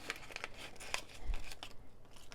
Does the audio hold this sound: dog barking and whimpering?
no